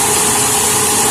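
An Infiniti QX4 engine idling steadily after a distributor installation, a constant loud hum and whir heard up close with no pauses and no talking.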